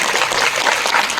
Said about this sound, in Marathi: राहुलसाठी एकदा जोरदार टाळ्या झाल्या पाहिजे.